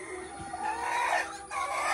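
Chickens clucking and squawking close by, a busy overlapping flock sound with no talking.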